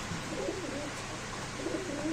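Pigeons coo softly at a pigeon market, with low, rolling calls rising faintly over a steady background hiss. The birds sound quiet and somewhat distant.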